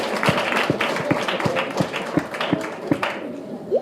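An audience at a talk on raising daughters claps in a slow, steady rhythm, with sharp individual claps spaced evenly over a murmuring room background.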